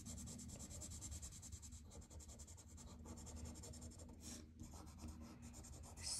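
Pencil shading dark black hair onto paper for a character drawing, a soft continuous scratchy rubbing with short pauses between strokes, close and quiet with no talking.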